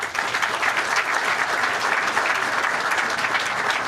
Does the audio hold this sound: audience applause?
yes